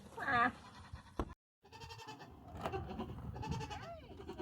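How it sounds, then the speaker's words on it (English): Farm goats bleat: one loud, close wavering bleat near the start, then rustling, thumps and a fainter bleat later on. "we're gonna go ahead and get Fern and Miguel, a couple of the goats that they keep down on this end."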